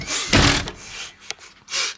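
A trailer door slams shut with a loud, sharp impact in a cold-climate setting, followed by a smaller knock and some rustling, with no talk.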